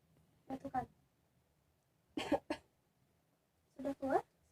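A patient doing effective coughing exercises to bring up sputum coughs in three separate bursts, each a quick double cough, close and fairly loud, with quiet pauses between.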